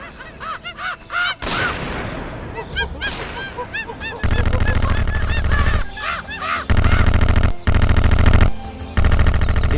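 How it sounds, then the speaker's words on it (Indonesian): Staged gunfire exchange in a raid on gangsters, with machine-gun bursts and scattered shots, loud and close, alternating with chaotic squawks and dense layered effects in an animated story. "Baku tembak pun terjadi."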